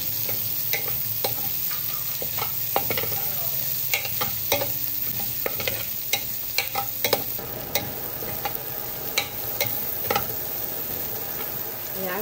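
Tilapia sauce ingredients cooking in leftover frying oil, a busy crackling sizzle with frequent sharp pops and spatula scrapes, close and steady throughout.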